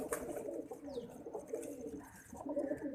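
Pigeons coo softly and repeatedly, with low rolling calls and a faint higher chirp, somewhat distant and quiet.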